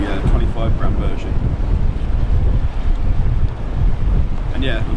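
Strong coastal wind buffets the microphone continuously on a rocky shore during lure fishing, a loud rumbling roar with faint speech and surf beneath.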